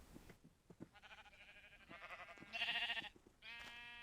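A few short, faint Minecraft sheep bleats, rising in a wavering cry toward the end amid soft clicks.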